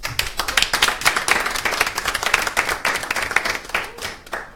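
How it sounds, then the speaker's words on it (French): A small radio station team claps together at a staff gathering, close and uneven individual hand claps forming brisk, irregular applause that thins out toward the end. "Est-ce qu'on peut déjà s'applaudir?"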